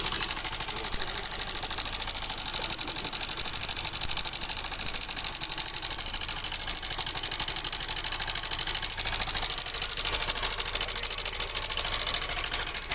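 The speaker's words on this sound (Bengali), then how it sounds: "এটা যে গাড়ির ইঞ্জিনের মধ্যে মোবিল নেই বলে আওয়াজটা আসছে।" A Yamaha Alpha scooter engine running short of engine oil makes a continuous, even mechanical clatter with a fine rapid ticking rattle, heard up close and steady throughout without pauses.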